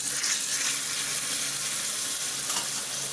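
Tuna sisig with bell pepper sizzles and fries in a pan, a steady bright crackling hiss that stays close and even throughout, with no talking.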